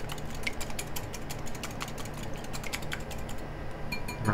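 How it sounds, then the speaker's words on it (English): A whisk clicks rapidly against a bowl while egg wash for a blueberry pie is beaten, a quick, steady rattling rhythm heard up close with no talking. "Whisk that together, just like that."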